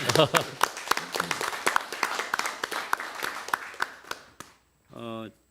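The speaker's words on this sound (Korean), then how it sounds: "박수 한번 크게 쳐주십시오" An audience at a Korean political debate forum on election law reform claps, a loose scatter of individual hand claps from a small crowd that thins out and stops, followed by a brief spoken voice.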